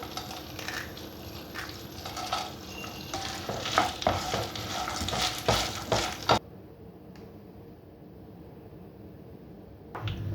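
Stirring a chickpea, chicken and noodle salad dressed with yogurt in a bowl, a run of close, wet clinking and scraping strokes that then stops, leaving near silence with a final faint knock.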